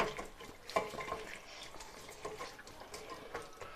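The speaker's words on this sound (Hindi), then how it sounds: "अब इसमें हम थोड़ा थोड़ा पानी डालते जाएं ताकि सारा जूस जो है ना हमारे पैन के अंदर चला जाए" Water trickling and splashing into a pan of tamarind pulp while hands squeeze and stir it for chutney, a soft continuous wet sloshing with small clinks, fairly quiet and close.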